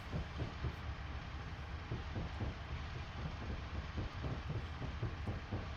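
Train running along a Scotland route in a railway simulator game, a steady loud rolling rumble with rhythmic clickety-clack wheel beats over rail joints throughout, no talking.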